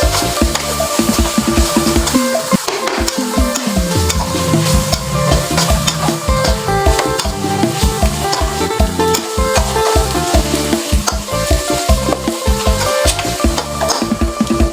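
Green beans, blanched beforehand, stir-fried with curry paste and fresh shrimp in a hot pan, giving a loud, steady sizzle with repeated scraping and tossing of a utensil throughout, with no talking.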